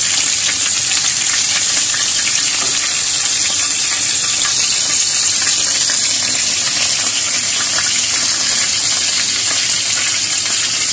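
Beef chapli kebabs fry in hot oil, producing a loud, continuous hiss and crackling sizzle that stays constant from start to finish with no talking.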